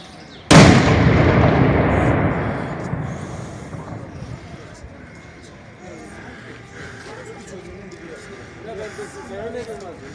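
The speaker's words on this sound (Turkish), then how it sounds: "Traktörlü patlama!" A sudden loud blast from a controlled explosion of a suspicious bag rings out and slowly fades into a long rumbling echo, followed by distant ambient noise.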